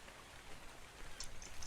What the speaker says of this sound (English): The rain's coming down, so I don't really have to worry about water.